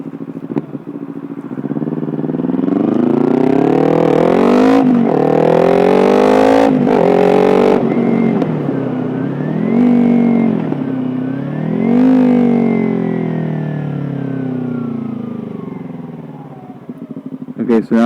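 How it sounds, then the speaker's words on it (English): A Kawasaki Ninja 300 sport motorcycle revs up through the gears, then downshifts with sharp rev blips and winds down under engine braking, the engine note rising and falling loudly and close by. "I'll accelerate. I'll get into 3rd or 4th gear, depends how much room I have, and I'll downshift"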